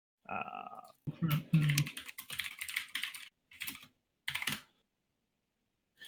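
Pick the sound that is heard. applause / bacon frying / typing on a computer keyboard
typing on a computer keyboard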